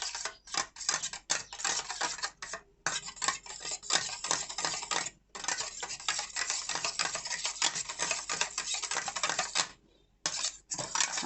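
Beaten eggs for a bread omelette whisked briskly in a bowl, rapid clattering utensil strokes against the bowl in a steady rhythm with brief pauses, close and fairly loud.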